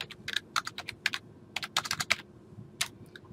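Quick bursts of typing on a computer keyboard, clusters of light clicking keystrokes with short pauses between, close and fairly quiet over a faint steady background hum.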